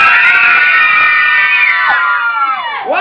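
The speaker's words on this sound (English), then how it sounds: "One, everybody scream!" Children and party guests scream together at a birthday party around the cake, a loud, sustained chorus of high-pitched voices lasting about three seconds before it trails off.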